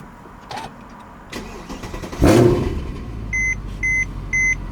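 A straight-piped Mercedes C63 AMG starts with a sudden loud roar, then settles into a deep, rumbling idle. A few short electronic beeps chime in evenly spaced bursts near the end.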